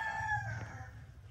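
A rooster crows once, a short clear call heard fairly close and standing alone without talk.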